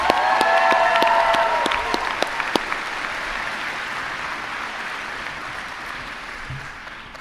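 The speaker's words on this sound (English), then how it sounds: "Let's give another round of applause to Professors Lee, Jorgensen, and Eller." Audience applause at a university presidential inauguration ceremony, a broad burst of clapping with a brief ringing tone at the start, then a gradual fade as the crowd settles.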